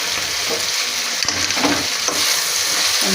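Gokarakaya curry stirred in a frying pan, a continuous oily sizzle with scraping spoon strokes against the pan at irregular intervals, close and alone.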